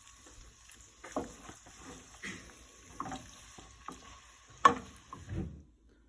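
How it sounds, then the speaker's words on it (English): Tortellini pasta being mixed with grated Parmigiano, soft wet stirring and scraping in a pan or bowl in a few separate strokes, with a faint sizzle underneath and a sharper clink near the end, quiet and close. "Now you mix the pasta with the Parmigiano."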